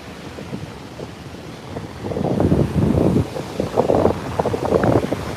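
Ocean waves roll up onto a beach, with quiet wash at first and then louder surging rushes of water, mixed with wind buffeting the microphone.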